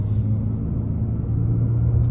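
A 2022 Hyundai Santa Fe XRT under light throttle on a multi-lane highway, its engine a steady low rumble with road noise, held near 3,000 RPM, muffled and even as heard from inside the cabin.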